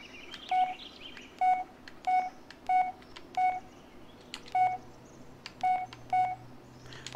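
A phone in the Blair Witch video game plays dialing tones, a series of about nine short, clean electronic beeps spaced at irregular intervals over a quiet, faint background, with no talking.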